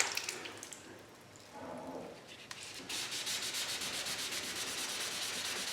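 A steady, gritty scratching of sandpaper rubbing back and forth by hand over a run in a car's clear coat, quiet at first, then a continuous brisk rasp.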